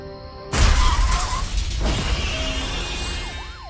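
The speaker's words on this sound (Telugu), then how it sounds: "వెనక నుండి వాహనాన్ని తోసేస్తుంది. వెంటనే వాహనం లోయలో పడిపోతుంది." Cartoon crash effect of a vehicle shoved from behind and plunging into a valley: a sudden loud shattering boom with a whoosh, then a sustained crumbling rumble and whistling falling tones, with no talk.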